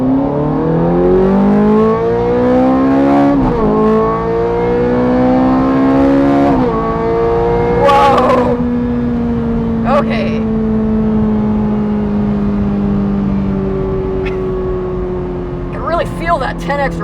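Ferrari 430 Scuderia with its factory exhaust, valves pulled: a loud engine climbs through rising revs in several pulls, then holds a steady high drone, with voices over it now and then.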